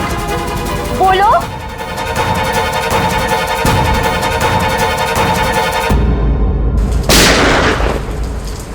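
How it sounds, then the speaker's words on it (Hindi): Gunfire in a TV crime drama rings out over a background of heavy rain, with a sharp loud burst near the end following a stretch of steady noise and tonal music. "ये कहीं गोली चली है।"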